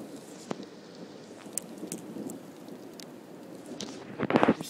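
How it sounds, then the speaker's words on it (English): A June thunderstorm with rain pattering steadily nearby while thunder cracks and rumbles through it, including a louder crash near the end. "I'm hearing constant lightning, so enjoy."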